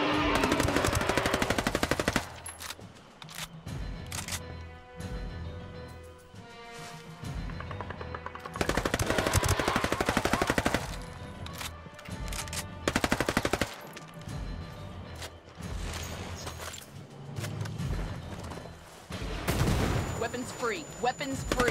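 Machine gun fire in a jungle shooter video game, long sustained bursts broken by short pauses, loud and dense, with explosive thumps and radio-style voices mixed underneath.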